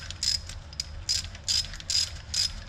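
A hand ratchet being tightened gives short bursts of rapid clicking, about five strokes in a row, close up over a faint background hum.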